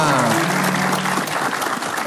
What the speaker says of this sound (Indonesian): Tepuk tangan buat tamu kita yang pertama.